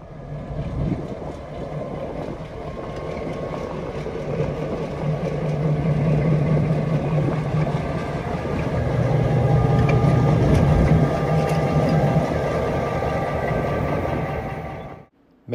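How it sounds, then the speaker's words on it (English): Bay Colony locomotive 1706 throttles up at the south end of a wye track in a New Bedford, Massachusetts rail yard, its diesel engine a steady heavy drone with a low rumble that swells gradually, with wind noise throughout. "Bay Colony 1706 throttling up at the south end of the Y."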